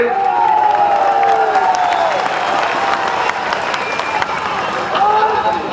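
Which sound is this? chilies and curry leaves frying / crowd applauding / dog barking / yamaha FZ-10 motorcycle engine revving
crowd applauding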